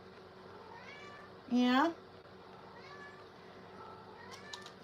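A house cat meows once loudly and close, a rising-falling cry standing out over a quiet room with faint background tones, and a person speaks briefly around it.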